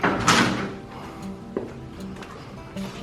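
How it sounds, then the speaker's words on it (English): A back porch door on a Windermere, Florida home swings open with a soft thump and latch click, followed by a second, lighter knock of the door a moment later in a quiet indoor space. "if you get that door for me"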